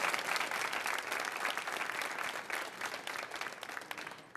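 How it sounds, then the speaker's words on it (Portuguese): A church congregation claps together in a sustained round of applause at an evening preaching service, dense and steady throughout without any speech over it. "Vamos aplaudir a palavra de Deus,"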